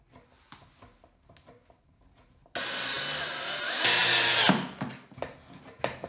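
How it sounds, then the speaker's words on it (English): A power drill drives a screw into a live-edge wood speaker stand, a steady loud whir of about two seconds that rises in pitch near the end, with quieter workshop handling noises before and after. "So I think I will use a clamp and try to keep it aligned when I drive the screw in."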